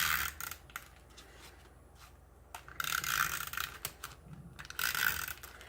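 A Tombow Snail adhesive tape runner rolls across foil paper in two or three short bursts of close, ratcheting clicks and whirring, with quiet pauses between them.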